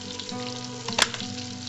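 Onions frying in a pan, a steady close sizzle with a brief louder crackle near the middle.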